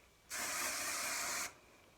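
A single continuous hair spray hiss lasting about a second, close by, starting and stopping abruptly against a quiet background.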